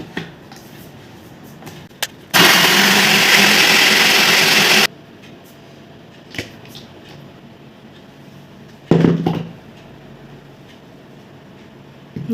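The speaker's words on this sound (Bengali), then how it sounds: "ছ চামচ পরিমাণে চিনি অ্যাড করব ভালো করে ব্লেন্ড করে নেব" Blender whirring through roasted mango pulp with sugar for aam panna, one loud steady burst of about two and a half seconds, followed by a shorter pulse later.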